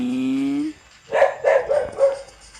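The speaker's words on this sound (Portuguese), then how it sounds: "Tem um cachorro." A dog barks several times in a robot war video game, a quick run of close, sharp barks following a sustained tonal game sound.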